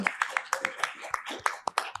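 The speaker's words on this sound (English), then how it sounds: "Can you please give a round of applause for Commissioner McCosh?" An audience at a disability community forum claps for a commissioner, a brief scattered round of individual sharp hand claps, fairly close and uneven in rhythm rather than a dense roar.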